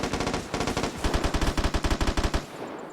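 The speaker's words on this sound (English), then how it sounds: "Like how this guy is shooting at somebody that I can't see." Rapid automatic gunfire in the online shooter game Vigor, set in a post-apocalyptic Norwegian location, with several steady bursts of evenly spaced shots, fairly close and loud, stopping near the end.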